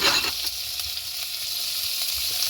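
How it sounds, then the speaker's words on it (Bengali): Vegetables frying lightly in a pan for chicken soup, giving a steady close sizzle with a few faint stirring scrapes and no talking. "সবজিটা ভেজে নেব হালকা একটু ভেজে নেব"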